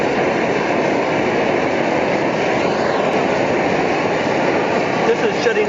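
An Edelrid camping stove fitted with a 0.28 mm jet, set up for gasoline or kerosene, burns with a steady, loud, close roar that holds unchanged throughout.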